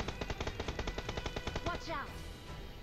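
An M249 light machine gun fires in the mobile battle-royale game BGMI, a long steady burst of rapid, evenly spaced loud shots that breaks off near the end into a softer whooshing tail.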